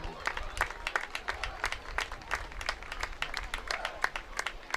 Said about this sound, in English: One more round of applause for our 2021 Hall of Fame inductees.